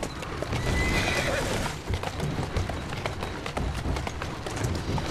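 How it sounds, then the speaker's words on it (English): Horse neighing and whinnying with clip-clop hoofbeats in Assassin's Creed Syndicate, loud and close, the steady hoof rhythm running throughout. "Who's a good horse? You are."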